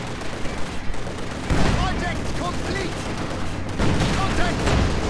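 Company of Heroes 2 battle sounds: rattling gunfire and heavier thumps from a field gun, bursting out in two dense stretches between quieter moments, with a commentator talking over the combat.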